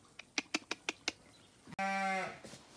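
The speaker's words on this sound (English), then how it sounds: "excuse the sheep noise" A series of short, sharp clicks or taps sounds in quick succession, followed by a close, loud bleating sheep call, drawn-out and wavering, on a farm in Kaipara.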